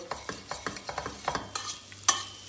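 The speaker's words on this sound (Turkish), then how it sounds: "Şöyle bir daha karıştıralım." A spoon stirs oil and tomato paste in a pot while tarhana is being made, with quick rhythmic scraping strokes over a soft sizzle and a sharp clink near the end.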